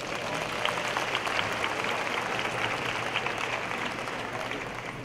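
Applause from a large audience at a fall university convocation ceremony, a steady, even roar of many hands clapping in a big hall, moderately distant and continuing without pause.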